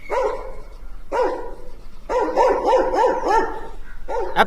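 A dog barks repeatedly at close range, loud rapid yaps coming in quick bursts with brief pauses between them, nobody talking over them.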